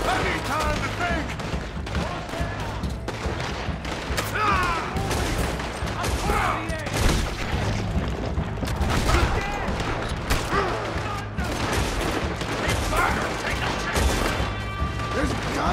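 A Red Dead Redemption 2 shootout with dense, continuous gunfire: sharp close shots and rapid volleys crack over one another with crashing impacts, while voices shout in between.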